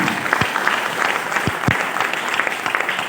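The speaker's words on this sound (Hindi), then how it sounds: "एक तो फिर से तालियां बजा दी।" An audience at a seminar claps again in a dense, steady burst of applause, a few louder thumps standing out from the crowd.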